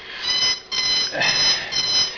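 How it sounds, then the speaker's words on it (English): A wake-up alarm clock rings in repeated electronic beeping bursts with short gaps between them, close and fairly loud, and no voices. "that was my alarm to wake up and go to work"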